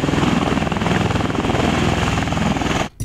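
A military tilt-rotor aircraft's propellers in helicopter mode beat with a loud, steady rotor throb and engine roar up close, constant throughout before a brief sharp dropout near the end.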